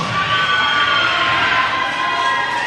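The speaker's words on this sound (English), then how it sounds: "that confirms it was the Dortch cheering section" A cheering section at a live amateur boxing event roars for boxer Antoine Dortch, with loud, sustained crowd cheers and shouts that fill the space continuously.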